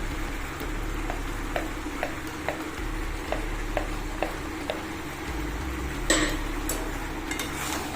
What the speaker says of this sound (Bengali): তো দেখো চিকেনটাকে একটু সময় ফ্রাই করে নিয়েছি আর এবার দিয়ে দেবো আমি মশলাগুলো